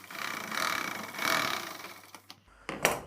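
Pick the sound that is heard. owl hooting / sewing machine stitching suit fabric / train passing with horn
sewing machine stitching suit fabric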